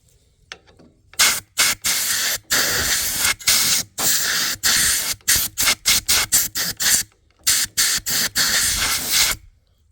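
Compressed air blasting through the carburetor of a Lincoln Ranger welder, loud hissing spray bursts in rapid, uneven pulses with short gaps, close and forceful.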